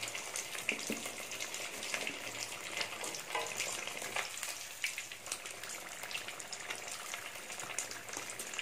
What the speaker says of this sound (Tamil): எல்லா இடமும் எண்ணெய் படுற மாதிரி பார்த்து பொரிச்சு எடுத்துக்கோங்க.